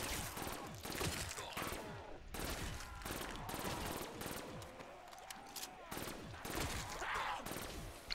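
Dense, overlapping bursts of rapid gunfire from a weapon in a video game, with heavy layered shots and booming impacts, loud and continuous with short gaps between volleys.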